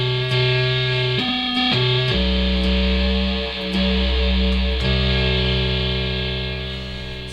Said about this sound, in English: you can mix in white noise as well if you want